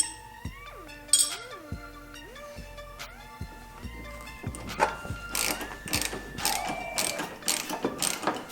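Ratchet clicks ring out in quick irregular runs with metallic clinks while loosening 17mm seat bolts with nylock nuts on a Can-Am Maverick X3, set against tonal background music.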